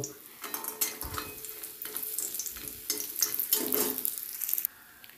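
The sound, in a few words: lentil bori frying in hot mustard oil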